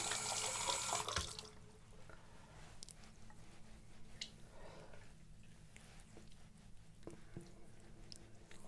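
A bathroom tap runs loudly for about a second while face cleanser is rinsed off, then only faint splashes and dripping water remain at a quiet level.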